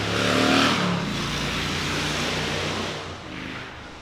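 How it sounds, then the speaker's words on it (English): A motorcycle on a Charleston street, its engine droning loudly with a rising rev that peaks early, then holds a steady roar as it passes close by before easing off slightly at the end. "Now that one was a motorcycle."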